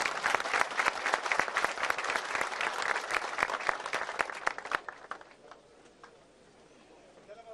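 Loud crowd applause welcomes head wrestler Orhan Okulu on stage at a welcoming ceremony for head wrestlers in Döşemealtı, dense clapping that fades out after about five seconds, leaving quiet room noise.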